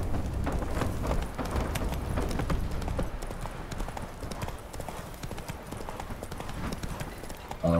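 Roach, a horse in The Witcher 3 video game, gallops with rapid, loud, rhythmic hoofbeats that run steadily through the whole stretch against a dense low rumble.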